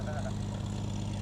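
A small training plane with an instructor and two passengers aboard runs its engine for takeoff, a steady low propeller drone filling the background with broadband noise.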